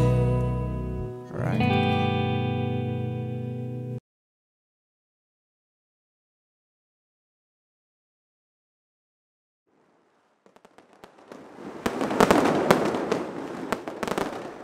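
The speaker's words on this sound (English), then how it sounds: "When midnight hits, everybody goes outside and lets off fireworks and bangers to bring in the new year" Fireworks and bangers go off at midnight to mark the New Year in Tianjin, China, as a dense burst of rapid crackling and popping explosions. It follows a short musical passage and a long silence, and it grows louder and stays busy until the end.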